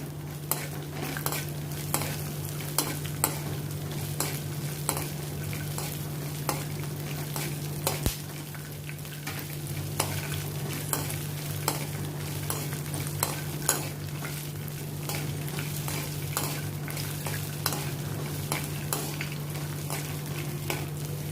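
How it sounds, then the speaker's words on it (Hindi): Peanuts and chopped green chillies roast in a pan, sizzling steadily up close while a spoon stirs and scrapes them in repeated strokes. "इसमें भी मैं 2 हरी मिर्च कटी हुई डालती हूँ, इनको भी अभी मैं रोस्ट कर लेती हूँ।"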